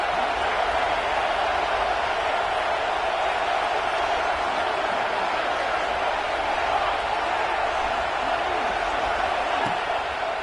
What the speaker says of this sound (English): This crowd bringing an ear-splitting welcome to their visitors.